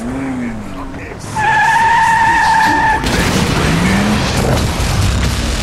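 A motorcycle skids in the video game Tales from the Borderlands: a loud, sustained tire screech rings out with engine noise and a rough scraping burst, close and intense, with a voice talking faintly underneath.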